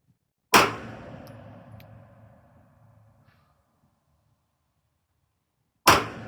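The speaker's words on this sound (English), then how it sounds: "I'm really going to take my time and put a 3-round group downrange" Pistol shots fired downrange while zeroing a pistol red dot: two sharp, loud cracks several seconds apart, the first trailing off in a long echoing decay, with quiet between them.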